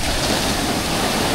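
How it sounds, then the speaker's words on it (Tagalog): Strong ocean waves break on a beach at a beachfront campsite in Dingalan, Aurora, a loud, dense, unbroken roar of surf filling the whole moment with no voices. "Malakas yung alon mga idol ha."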